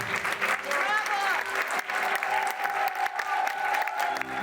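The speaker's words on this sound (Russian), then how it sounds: "В финале зрители не просто аплодировали стоя." A theatre audience applauds at the finale of a play by a Kazakh theatre company, steady dense clapping filling the hall with some voices and a tonal sound mixed in.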